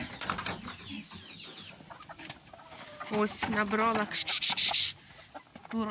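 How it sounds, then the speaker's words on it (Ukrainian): Farmyard chickens cluck and chatter as they run up to be fed, their calls growing louder and denser toward the end, with someone speaking briefly at the start. "кури біжать"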